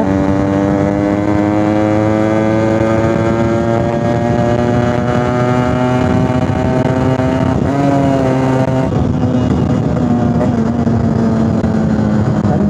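A Yamaha RX100 two-stroke motorcycle runs loud and close under sustained throttle, its engine note holding steady and climbing slightly across the stretch, with no voices.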